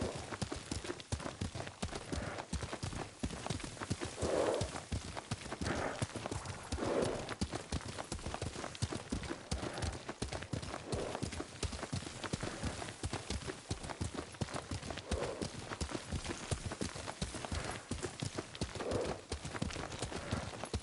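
Horse hooves clip-clopping in a steady galloping rhythm while riding in Ghost of Tsushima, continuous and close, with occasional soft snorting, and talking faintly heard underneath.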